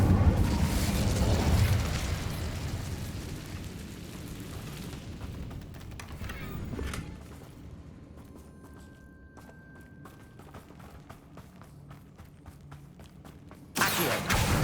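Incendio fire spell cast in Hogwarts Legacy, with a whooshing fiery burst at the start that fades into quieter game ambience, then a second loud burst at the end.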